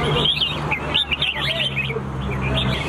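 Many red-whiskered bulbuls chirp and trill in bright, overlapping bursts at a bird singing contest in Thailand, a busy chorus singing close by over a steady low background hum.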